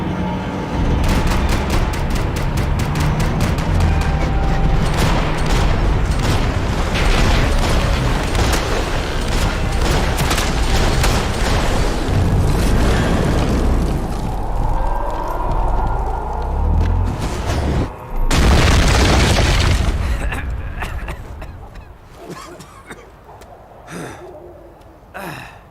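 Gunfire and explosions in the video game Max Payne 3, rapid bursts of shots and heavy booms over a loud, dense mix, with a big blast near the end before the action fades down.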